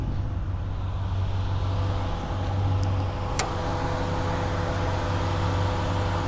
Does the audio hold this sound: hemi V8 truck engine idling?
yes